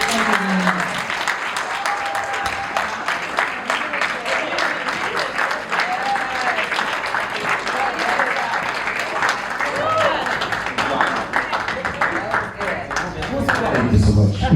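A gala audience applauds steadily for the whole stretch, dense clapping filling the room with cheers rising over it and a few voices calling out among the crowd.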